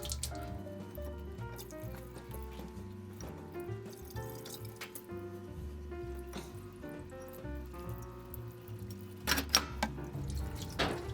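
Running water rinsing grit out of motorcycle fork tubes for a Harley-Davidson Dyna in a workshop: a steady splashing, trickling stream with dripping and sloshing throughout, getting briefly louder near the end.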